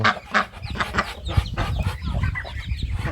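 Turkeys cluck and gobble continuously nearby, overlapping calls forming a busy, rough chatter.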